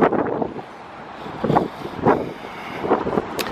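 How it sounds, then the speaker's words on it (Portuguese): Strong wind buffets the microphone outdoors near a train station in Legnica, Poland, a continuous low rumble with gusty swells that rise and fall throughout, no speech heard. "Tá um vento danado, menina, aqui."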